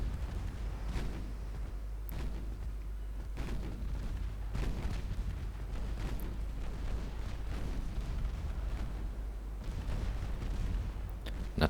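Naval guns fire high-explosive shells in Ultimate Admiral Dreadnoughts, a 1949 American fleet battle, as repeated deep booms at irregular intervals over a constant low rumble of sea and engines.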